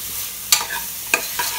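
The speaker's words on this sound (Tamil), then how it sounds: "மிளகாய், இதெல்லாம் சேர்ந்து கொஞ்சம் இந்த பச்சை வாசனை போகிற அளவுக்கு நல்லா வதங்கட்டும்" Green chilies, onion, ginger and garlic sauté in a pan with curry leaves and coriander, a soft constant sizzle punctuated by a few sharp scraping stirs.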